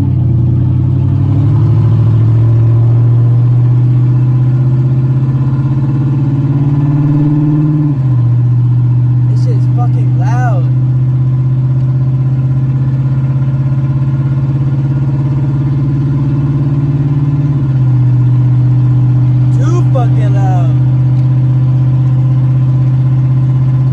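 A 2007 Chevrolet Silverado with its 4.8 engine and gutted catalytic converters idles with a loud, deep rumble, blipped into two short revving bursts around the middle and near the end, alone with no talk.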